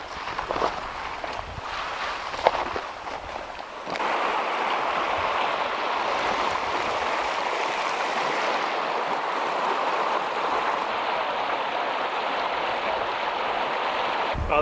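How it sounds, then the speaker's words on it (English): A secluded stretch of river flows with a steady broadband rush, close and constant, with a few footsteps and rustles at the start before the water noise dominates. "Nice little stretch of the river that hardly anybody ever gets to."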